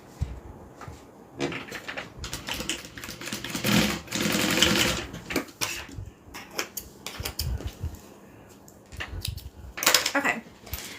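Sewing machine running in short bursts while top stitching fabric, with a close rapid mechanical chatter that starts and stops several times.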